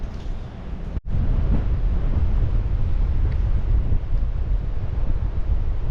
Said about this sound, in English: Probably can't hear me over the wind.